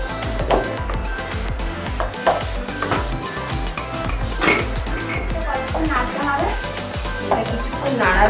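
Mango pudding paste being stirred in a karahi pan, a busy run of clinks and scrapes from utensils against the metal over roughly eight seconds, close and fairly loud, with some voice in the background.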